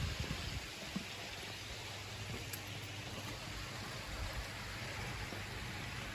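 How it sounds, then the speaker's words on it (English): Water rushing through the bottom drains of a garden pond filter under good pressure, a steady hissing, gurgling flow throughout, fairly faint and with no voices. "I'll flush the bottom drains, and yeah, it comes through with pretty good pressure, the bottom drains."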